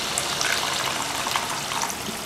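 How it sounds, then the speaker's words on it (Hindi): Water poured into masala kaleji cooking in a pan, a steady broadband splashing and trickling that runs on unbroken for a couple of seconds, fairly close and with no talk over it. "पानी डालने का बड़ा शौक़ आ रहा था मुझे"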